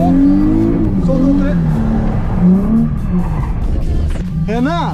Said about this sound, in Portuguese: Puxou o freio de mão, acelerou, soltou o volante, acelerou